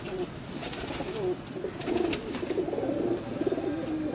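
Teddy pigeons coo in repeated throaty rolls, several birds near and clear, the cooing growing busier and louder partway through.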